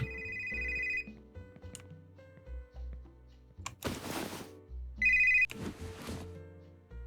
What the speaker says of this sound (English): Here's another phone.